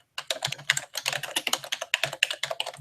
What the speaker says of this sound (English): now let's type it in here